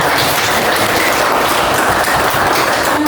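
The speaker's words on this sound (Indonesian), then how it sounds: "Tepuk tangan dulu untuk kita semua." Classroom applause, loud and close, with many hands clapping in a continuous, dense patter that stays level throughout.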